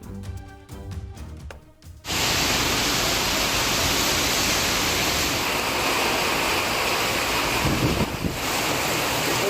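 Heavy rain with strong wind in Karaikal: after about two seconds of other sound, a loud, dense roar of rain and gusting wind fills the rest, steady and close, with wind buffeting the microphone.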